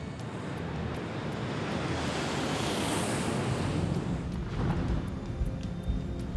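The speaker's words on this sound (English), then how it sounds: "Copa Airlines Flight 201 takes off for a short flight to Cali, Colombia." A Copa Airlines passenger jet taking off from Tocumen International Airport in Panama City, a broad steady engine roar that holds at full power throughout, with no talk over it.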